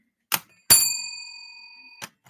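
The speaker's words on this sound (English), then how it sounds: "We got Old Bell." An old bell gives two sharp metallic strikes, the second ringing on with a long, clear, steady tone that slowly fades, followed by a softer tap and a faint click, all close and alone.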